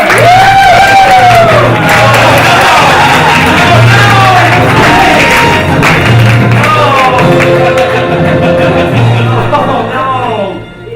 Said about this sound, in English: Please, big round of applause for movie actor Harrison Ford!